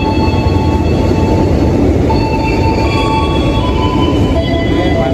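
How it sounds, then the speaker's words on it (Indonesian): A passenger train at an Indonesian station, near a panoramic carriage, rumbles loudly and steadily with high metallic wheel squeals threading through, and no talk. "Ini kita jalan menuju kereta panoramiknya guys."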